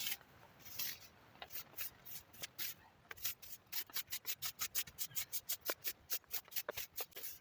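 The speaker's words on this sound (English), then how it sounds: "she's wiping from top to bottom" A cloth wipes a sleeping bag from top to bottom in repeated brushing strokes, sparse at first, then a fast, even rhythm of close, crisp rubs, with no talking.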